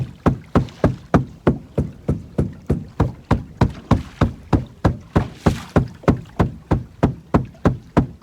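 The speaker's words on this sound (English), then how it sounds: "Beat the boat. See if we can stir some of these fish up." Hollow knocks bang on a fishing boat hull on a lake in a fast, even rhythm, roughly three per second, close and with no voices.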